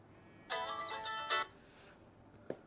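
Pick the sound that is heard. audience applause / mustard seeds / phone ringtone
phone ringtone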